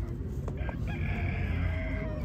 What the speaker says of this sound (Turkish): Horoz ya.